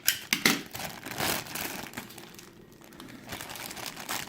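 A small plastic baggie holding a figure accessory crinkles and rustles up close as it is cut open, in quiet, irregular bursts of crackling plastic.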